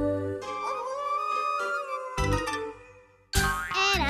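A cartoon dog's drawn-out, wavering howl rises and falls in pitch, breaking off and returning with a louder, higher burst near the end, with no talk.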